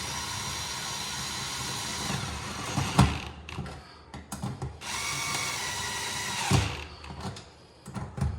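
A power drill drives screws on an electric stove range cord, whirring loudly in two long sustained runs, each ending in a sharp clack and a ratcheting stop, with short bursts of lighter handling between them.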